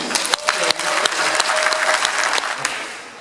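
A church congregation at an Advent retreat applauds to acclaim Christ, steady dense clapping from many hands, loud and close, with a faint voice underneath.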